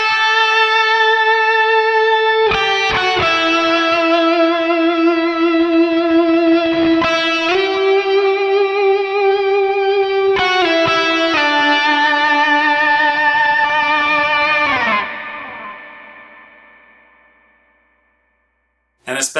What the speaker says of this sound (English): So you'll hear that there's a lot of reverb when I'm playing on this sound.